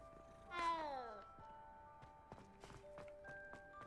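A cat in the video game Hogwarts Legacy gives one clear, fairly loud meow, followed by soft footsteps, light thunks and faint tonal game sounds.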